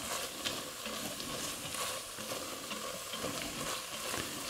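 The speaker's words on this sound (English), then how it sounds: "Getting the scrapings off the pan, which is a good thing because that's good stuff." A spatula scrapes across the bottom of a pan of frying onions and pepper coated with flour, rough scraping strokes over a steady sizzle, close and continuous.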